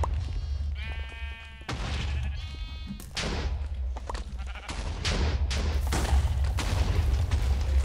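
Sheep in the Minecraft Hypixel Sheep Wars minigame bleat in quick repeated calls, followed by booming game explosions and clattering bursts that grow louder and denser toward the end.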